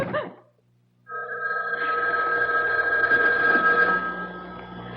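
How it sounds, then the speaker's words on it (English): A house telephone rings loudly and steadily through most of the moment in a radio mystery drama, one continuous bell-like tone after a brief bit of a voice at the start. "It was the house phone."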